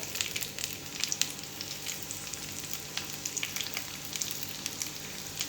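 Sausages and mushrooms frying in a pan for an English breakfast, giving a steady close sizzle with crackling pops throughout and no talk.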